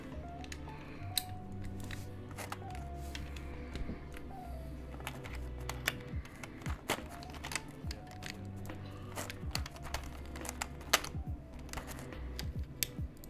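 Fast, continuous typing on a Kepler mechanical keyboard with a POM plate and Zealios v2 switches, heard up close as dense, sharp clacks in an uneven rhythm over a low steady hum.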